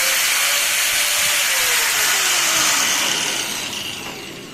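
A 5-inch INGCO angle grinder running free with no load, its steady high-pitched whine spinning loudly close by, then easing off and fading toward the end as the motor winds down.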